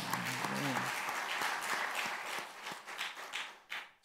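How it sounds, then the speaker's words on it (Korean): A church congregation applauds during a Sunday afternoon worship service, a fairly quiet, steady patter of clapping lasting a few seconds, with a voice briefly heard near the start. "할렐루야, 박수."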